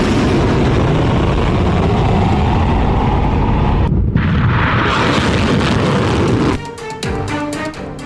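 Missile explosions in Tel Aviv during an Iranian barrage: a sustained, loud roaring rumble of blasts that suddenly drops in level, with crackling bursts and a faint siren-like tone afterward.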